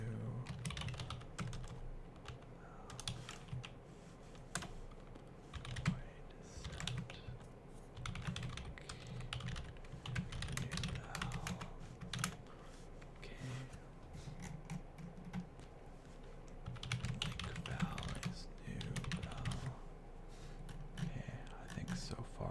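Computer keyboard typing while coding, a soft, steady patter of close keystrokes in irregular bursts throughout, under quiet whispered mumbling.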